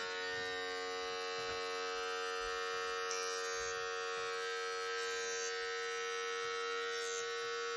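Electric hair clippers buzz steadily during a self-haircut, a constant high-pitched motor whine with faint soft cutting rustles underneath, no one speaking.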